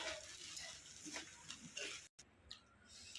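Sabudana khichdi being stirred in a pan gives faint, soft scraping and light rustling strokes, with a brief silent gap partway through.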